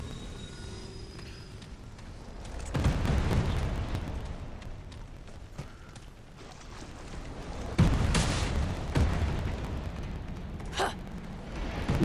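Explosions keep rumbling and booming beneath a player's feet in a video game, a heavy low roar that swells and fades in repeated bursts with sharp cracks, and no talking over it.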